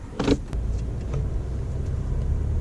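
A 2019 Toyota Avalon setting off, with a brief mechanical clunk near the start followed by a steady low engine and road hum inside the cabin, fairly quiet and continuous.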